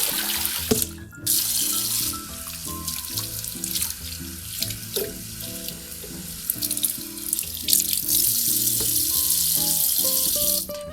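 A human hair topper is rinsed under a running tap into a sink, with continuous splashing and pouring water close by and a few light rattles; no one talks.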